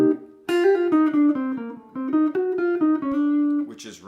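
A plucked jazz guitar plays a short melodic phrase in even eighth-note triplets, notes ringing clearly at moderate volume, ending on a sustained note.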